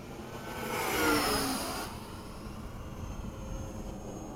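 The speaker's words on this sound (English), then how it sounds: "Plane makes a really cool sound." An FMS Hawk 80mm RC jet plane makes a fast pass, its turbine-like whoosh swelling loud to a peak and then falling away as it recedes into distant hiss.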